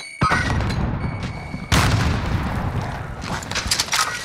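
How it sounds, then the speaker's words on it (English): A frag grenade going off in Call of Duty Warzone, a sharp close blast that rolls into rumbling debris, with an earlier short bang and scattered game sounds. "Throwing a frag."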